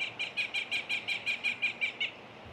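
A blue jay mimics a Cooper's hawk at a backyard feeder, giving a rapid series of about eleven evenly spaced, piercing calls, fairly close and loud, tapering slightly at the end.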